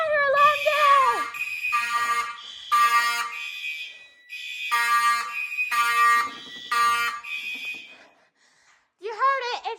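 Fire alarm sounding in repeated loud, harsh electronic blasts, each lasting about a second with short gaps, near and dominant, ending with a brief rising tone.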